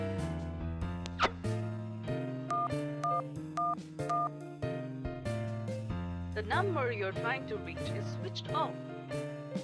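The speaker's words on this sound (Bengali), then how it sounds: "একবার ফোন করে দেখি" A short run of electronic keypad tones sounds as a telephone number is dialed, each beep brief and evenly spaced, set against a backdrop of tonal music.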